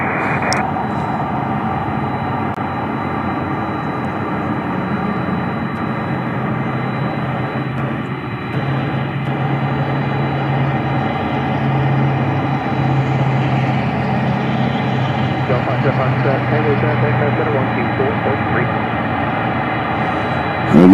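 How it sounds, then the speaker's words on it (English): Airplane approaching Memphis International Airport, a steady loud engine roar that holds and slowly swells across the whole stretch, with outdoor background noise. "So we got a plane coming."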